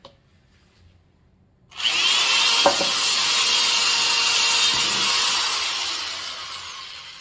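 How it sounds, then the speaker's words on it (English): Quiet at first, then a power drill starts up and runs loudly and steadily, a high whining grind biting into material up close, drilling holes all the way through outdoors on a garden project. "so I'm just gonna take my drill"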